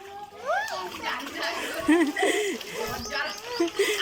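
A child swims around in a bathtub, sending up a few short splashes and sloshes amid steady water movement, with a voice and an adult's chatter over it.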